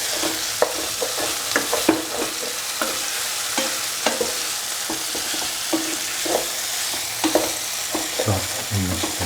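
Salt being stirred into frying cottage cheese and cashew stew, a spoon scraping the pan in repeated clear strokes over a steady sizzle, close and without speech.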